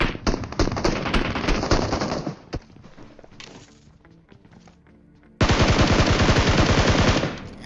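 Automatic gunfire fills a gunfight in the video game PUBG Mobile: a dense burst of rapid shots, a few scattered single shots and quieter distant fire, then another loud, sustained rapid volley close by.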